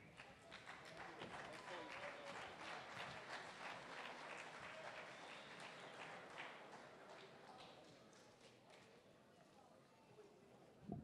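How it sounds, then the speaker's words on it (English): Audience applause at a bodybuilding national championship finals, a continuous crisp clapping that swells and slowly fades over several seconds, quiet and somewhat distant. "a round of applause from Greg from the Vitamin Shop"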